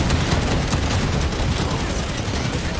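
Gunfire in the Halo 5: Guardians video game against Promethean enemies, a dense, continuous crackle of shots and blasts for about three seconds at moderate loudness with no pauses.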